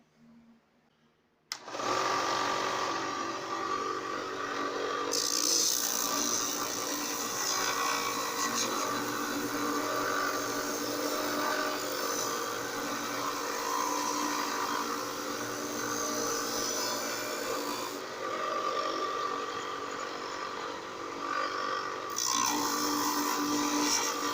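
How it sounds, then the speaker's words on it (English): Knife blank held by magnets gets its forge scale ground off with a power tool, a steady loud whirring grind that runs continuously for over twenty seconds after a brief quiet start, with slight shifts in pitch as pressure changes. "just quickly remove this forge scale"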